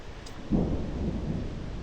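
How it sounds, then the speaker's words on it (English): A low rumble of distant thunder at a lake in the Absaroka-Beartooth Wilderness rolls in about half a second in and lingers steadily to the end, under faint background hiss. "Just wasn't trying to hear a storm."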